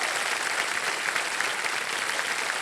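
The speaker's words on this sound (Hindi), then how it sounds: "जोरदार तालियां।" A studio audience on a quiz show gives loud, continuous applause, a thick wash of clapping that stays even and unbroken from start to finish.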